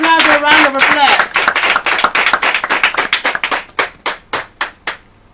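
Audience at a girls' secondary school oratory competition finale clapping, starting over a voice, then breaking into a thinning run of separate, rhythmic claps that slow and end in a few distinct, close hand claps.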